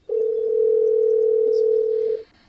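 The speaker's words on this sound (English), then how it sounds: "Someone's phone ringing?" A single steady telephone ringing tone on an incoming call sounds loud and unbroken for about two seconds during a meeting demonstration, then cuts off, with no talking over it.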